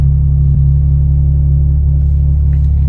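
Steady low rumble of a 2022 BMW M4 Competition xDrive's six-cylinder engine idling, close and even throughout, with a faint click or two over the top.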